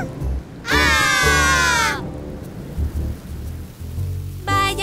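Rain and rumbling thunder in a Bebefinn children's cartoon song, with a loud high wavering tone sweeping over the rain midway and another bright tone entering at the end.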